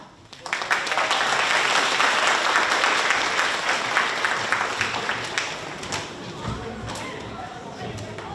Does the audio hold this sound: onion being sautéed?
no